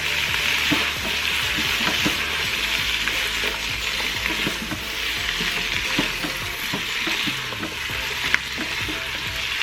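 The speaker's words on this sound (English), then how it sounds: "We're just going to saute this for about 2 to 3 minutes." Thyme and cherry tomatoes sauteing in a pan for short ribs, a steady loud sizzle and frying hiss with frequent stirring scrapes and small pops throughout, no voices.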